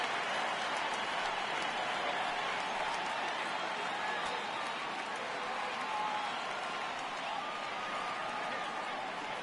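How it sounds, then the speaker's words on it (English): A crowd roars in a steady, sustained swell in a baseball video game on PS4 during a full-count at-bat, broad and continuous with no clear breaks. "Crowd gets up for the 3-2."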